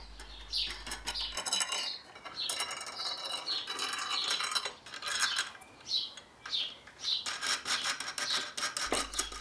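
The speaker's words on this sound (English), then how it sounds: "Fit the clamp top boards, drop on the washers and spin on the nuts." Washers dropping and nuts spinning onto threaded steel rod on homemade woodworking clamps with wooden top boards, giving a run of close, scraping metal rasps and light clinks in irregular bursts.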